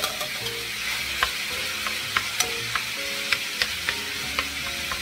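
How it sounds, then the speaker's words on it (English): Peppers and onions saute with meat in a hot pan, a steady close sizzle broken by sharp periodic taps and scrapes of a utensil stirring, with no talking. "I'm going to put that in there so it can saute in with my meats"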